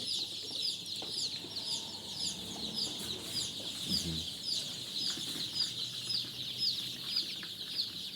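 Andijan black chicks in a heated brooding room chirp steadily and continuously, with dense overlapping peeps close by and a faint low hum underneath.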